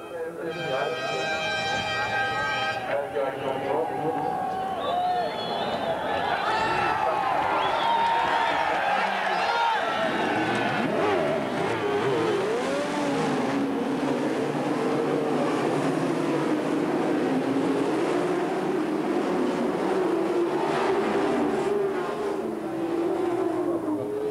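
Motorcycles firing up and pulling away at the 1992 Bol d'Or endurance race's Le Mans-style start, riders having run across the track to their machines: rising, overlapping engine howls that build and sustain over crowd noise, with voices mixed in.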